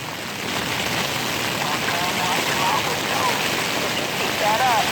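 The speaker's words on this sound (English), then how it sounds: "Do you hear the rain? Listen. I do hear the rain. It's raining hard." Heavy rain pours down in a dense, steady broadband hiss that stays loud and unbroken from start to finish.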